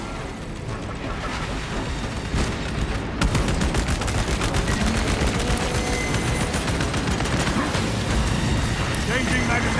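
Bolter fire in the Warhammer 40K: Space Marine 2 video game, a dense, continuous barrage of rapid heavy shots and booms, building in intensity, with voices talking over the combat.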